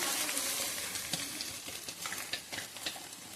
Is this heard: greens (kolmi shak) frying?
yes